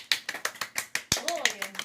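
A few hands in a small home audience clap at a birthday toy unboxing, close and distinct, about eight crisp claps in a quick steady rhythm, followed by a voice speaking over lighter claps.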